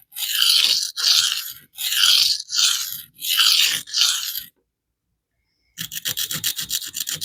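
Maxamet steel knife blade drawn across a coarse diamond sharpening plate: five loud, rhythmic rasping strokes, a short pause, then a quicker run of short scraping passes, close up with no talking.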